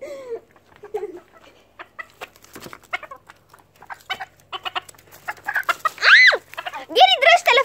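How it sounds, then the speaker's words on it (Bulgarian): Chickens being chased in a village cluck and squawk nearby in short, irregular bursts, with a louder drawn-out squawk near the end and people's voices mixed in. "Аз ще хвана кокошка."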